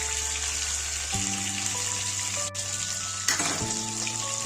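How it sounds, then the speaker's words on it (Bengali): Rui fish sizzle and spit in hot white oil in a pan, a continuous close frying hiss with brief louder crackles and a faint steady hum behind it. "মাছগুলো উল্টে পাল্টে লাল লাল করে একটু ভেজে নেব।"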